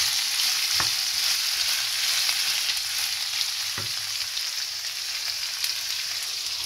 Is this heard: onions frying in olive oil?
yes